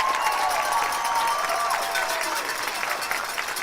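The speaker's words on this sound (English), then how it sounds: "Warrior fans will give him a big applause for that one." Fans in a high school basketball gym applaud an injured player being carried off, with a steady wash of clapping and crowd noise while a commentator talks over it.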